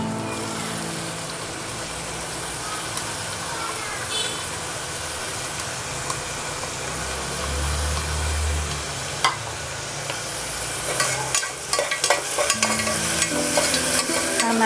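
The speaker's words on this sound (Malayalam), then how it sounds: "ഇഞ്ചിയുടെയും പച്ചമുളകിൻ്റെയും വെളുത്തുള്ളിയുടെയൊക്കെ ആ ഒരു പച്ചമണം പോണ വരെ ഒന്ന് വഴറ്റാം" Crushed ginger, garlic and green chilli sauté in an oiled pan with a continuous soft sizzle and occasional scraping stirs, steady and close throughout, with a low background hum.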